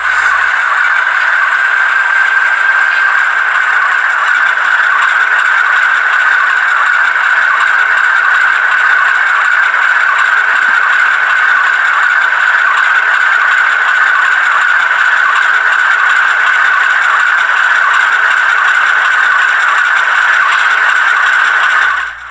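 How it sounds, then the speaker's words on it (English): A Rapido MLW M420 model locomotive crawls slowly along the track, its motor giving a steady, even whine with faint rattling, constant and close for the whole stretch before cutting off at the end. "let's see how well this locomotive can crawl"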